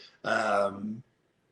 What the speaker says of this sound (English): sorry, I got the hiccups today.